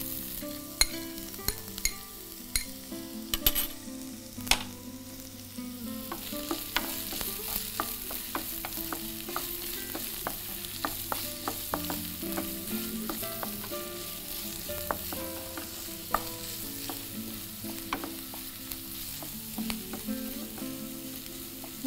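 Finely chopped onion frying in oil in a pan with cumin and dried chillies, a steady close sizzle broken by frequent clicks and scrapes of stirring.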